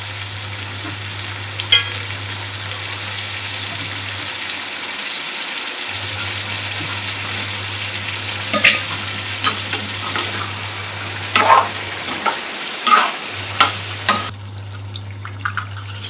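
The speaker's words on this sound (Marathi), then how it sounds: "छान असं मसाला चिकनला कोट होईल असं छान मिक्स करून घेऊ" Chicken tossed with homemade masala sizzling in a pan, with steady frying hiss, intermittent scrapes and clicks of a spoon against the pan, and a low steady hum underneath.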